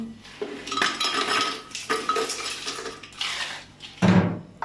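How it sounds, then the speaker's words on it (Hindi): Ice cubes dropped into mint paste in a container clatter and clink in several close bursts, with hard knocks and rattles, the last burst louder and sharper. "अब हम इसमें बर्फ ऐड करेंगे"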